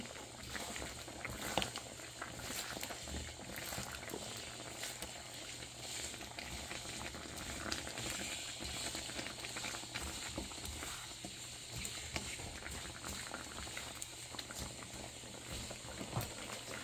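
A pot of chicken feet curry bubbles and simmers on the stove, with soft, continuous popping and gurgling close by and no talking.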